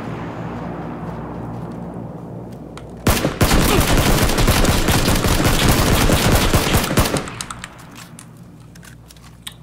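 Automatic rifle fire in PUBG on the Miramar map, Xbox build: a sudden, loud, continuous fully-automatic burst lasting about four seconds, rising sharply out of quieter ambient noise and fading back to it.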